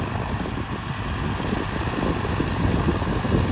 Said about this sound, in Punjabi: ਸਾਰੇ ਜਿਹੜੇ ਆਪੋ ਆਪਣੇ ਟਰੈਕਟਰ ਫੜੇ ਹੁਣ